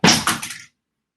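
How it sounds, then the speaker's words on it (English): A microphone falling makes a single short clattering thunk with a brief rattle, close and fairly loud, then silence. "that was the sound of my mic falling"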